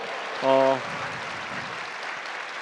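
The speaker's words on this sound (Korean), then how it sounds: "힘찬 박수 부탁드리겠습니다" A crowd applauds steadily throughout, a dense wash of clapping, with a short voiced sound rising briefly above it near the start.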